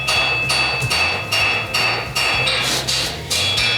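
A hammer strikes metal on an anvil in a steady rhythm, about one loud ringing blow every half second, close and clear with no talking.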